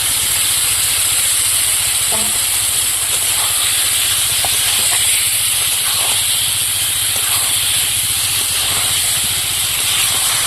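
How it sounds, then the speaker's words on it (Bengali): Boiled potatoes sizzle and hiss continuously in a pan of frying spice paste, with a few faint clinks and stirring knocks over the steady sputter. "এবার সেদ্ধ করা আলুগুলো দিয়ে দেবো।"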